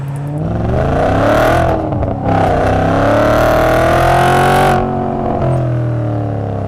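An Audi RS4 B7 Avant engine revs hard and accelerates, its pitch climbing in long sweeps with a brief gear-change dip, loud and close throughout, heard from inside the car.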